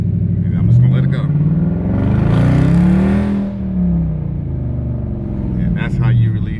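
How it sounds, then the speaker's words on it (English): Dodge Challenger/Charger launched with launch control, its engine revving hard and climbing through the gears in a loud, close rumbling surge that rises and falls over several seconds, with speech heard near the start and end. "that's how you release the launch control on your car"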